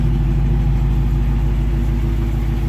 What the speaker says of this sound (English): Who doesn't like the sound of a Hemi engine?